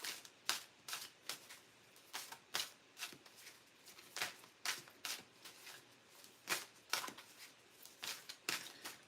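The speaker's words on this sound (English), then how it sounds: "Still a little bit of shuffling here." Cards being shuffled during a phone psychic's morning session: crisp riffling bursts repeat at an irregular rhythm, close and fairly quiet, with no talk over them.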